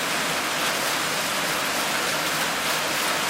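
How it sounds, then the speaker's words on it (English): Heavy rain pours steadily at an outdoor shooting range, producing a dense, constant hiss with no pauses and no voices over it. "Raining like crazy."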